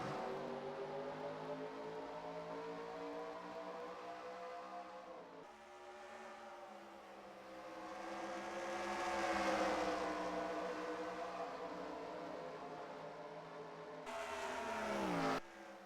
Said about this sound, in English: As these cars race down into turn 3